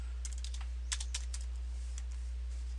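Quick, light keystrokes on a computer keyboard, a short scattered run of clicks over a low steady hum, alone with no voices.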